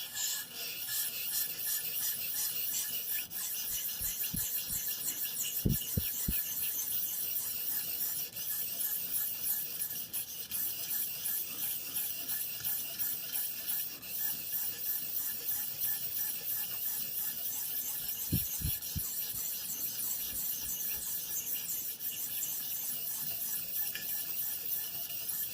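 A Civivi Mandate knife blade being sharpened on a ViperSharp sharpener, steady close rasping strokes repeating continuously for about 25 seconds, with a few low knocks between passes and no talking.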